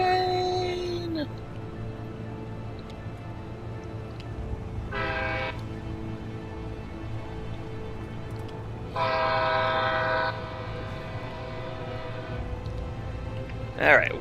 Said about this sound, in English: Incoming train in my area.